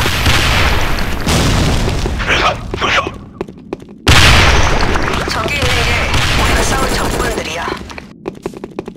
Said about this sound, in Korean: 슬기탄 투척. 수류탄 한번 맞아보겠어.